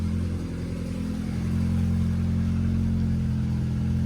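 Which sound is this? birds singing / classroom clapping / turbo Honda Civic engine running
turbo Honda Civic engine running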